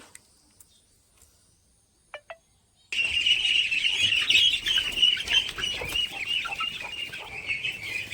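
Ducklings let out of their pen erupt into a dense, loud, continuous chorus of high peeping that begins suddenly after a few quiet seconds with faint knocks.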